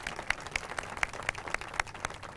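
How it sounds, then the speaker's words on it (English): Faint, sparse clapping from a small audience at an Albuquerque city news conference, a few distinct hand claps in an uneven rhythm over a quiet room. "So let's give them a round of applause."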